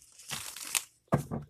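Tarot cards being shuffled by hand, two crisp riffling bursts separated by a brief pause, close and fairly loud.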